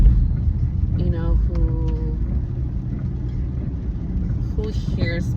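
Road traffic rumbles steadily and loudly past, a continuous low engine drone with a few brief tonal whines from passing vehicles.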